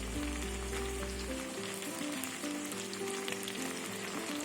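Potatoes frying with tomatoes added, sizzling in a pan for a spice-free potato and eggplant fish curry; a steady crackling sizzle runs throughout, with a low hum fading out early and faint tonal background sounds.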